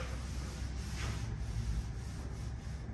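A hand rubs slowly across the sheet metal of a car hood, feeling for dents and waves in the auto body panel; a soft, continuous, close brushing hiss with no talk.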